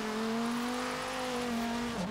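Dodge Viper engine in Forza Horizon 3 holding a steady, loud high rev for two seconds during a drift build session, then dipping slightly at the end as the pitch drops.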